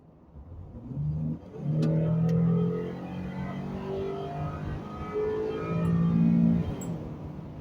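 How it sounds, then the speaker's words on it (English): A car engine revs and accelerates, a steady mid-pitched drone rising and falling in pitch, close and fairly loud with a whooshing road rumble. "For a V6, this baby sounds good though."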